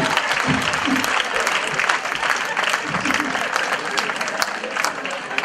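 A church congregation applauding to acclaim the Lord, dense sustained clapping from a crowd filling the room, with voices mixed into the noise.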